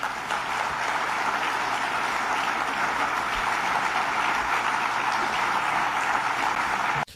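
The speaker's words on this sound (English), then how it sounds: "that is a room full of supposedly conservative lawyers applauding that point" A room full of conservative lawyers applauds in a steady, dense wash of clapping that holds evenly for several seconds before cutting off abruptly.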